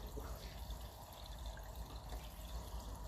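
Liquid pouring steadily through a funnel into a 1957 Ferguson 35 TVO tractor, a constant gurgling trickle with no talk, moderately close.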